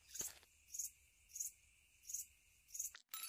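Crickets in an indie horror video game chirp in five evenly spaced bursts, each about half a second apart, quiet and alone over a faint steady background tone.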